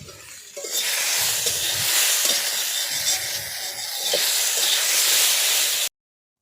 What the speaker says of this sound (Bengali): বেশি মাছটা আমরা ভেজে রেখে দিচ্ছি কালকের জন্য